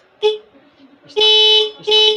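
Stock horn on a Honda RS 125 Fi motorcycle gives one short beep, then two longer loud honks close up, with quiet gaps between.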